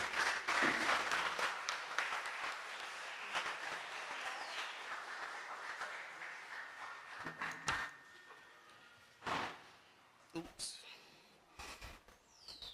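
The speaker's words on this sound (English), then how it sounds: "So give her a round of applause as she comes to the podium" Applause from the audience at a language arts quiz final as the club president walks to the podium, a fairly faint wash of clapping that fades, followed by scattered knocks, shuffles and brief voices.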